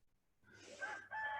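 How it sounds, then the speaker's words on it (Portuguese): A rooster crows once outdoors at a distance, a short rising then sustained call that is fairly faint against low background hum. "Olha o galo cantando aí. O galo cantando."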